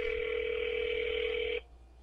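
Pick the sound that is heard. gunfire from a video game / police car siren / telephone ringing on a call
telephone ringing on a call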